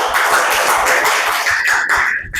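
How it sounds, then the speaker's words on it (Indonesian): Dense, continuous clapping from a group fills a micro-teaching practice classroom at an Islamic university, loud and sustained, with a brief pause near the end. "Tepuk tangan."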